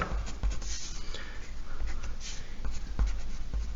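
A pencil draws a light construction line on paper for a technical drawing, giving a steady close scratching rasp that runs without pause, with a few faint ticks from the pencil.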